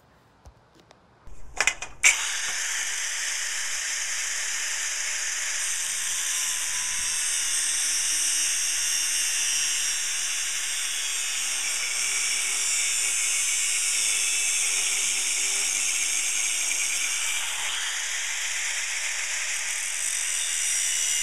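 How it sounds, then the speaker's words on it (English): An angle grinder fitted with a cutting wheel cuts through metal pipe in a steady, high-pitched shriek that holds for about twenty seconds, following a few clanks as the tool is set up. No one speaks. "I'm just going to take my angle grinder here with a cutting wheel. I'm just going to cut off that part of the pipe"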